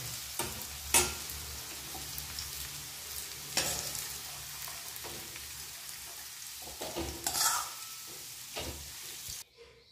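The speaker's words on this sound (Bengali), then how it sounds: "ইঁচড়টা আমি লাল লাল করে ভেজে নিচ্ছি, এখন নামিয়ে নেব।" Jackfruit pieces fry in hot oil, with a continuous sizzle and repeated scrapes and clatters as they are stirred in the pan, close by, before the sound cuts off at the end.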